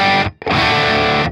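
An electric guitar played through a tube amp's input 1 upper gives two loud, heavily distorted chord strikes, the first cut off briefly before the second rings out thick and saturated.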